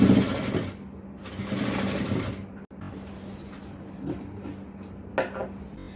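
A sewing machine stitches puff shorts in short bursts: two quick runs of rapid mechanical whirring close by, separated by pauses, then a brief final spurt.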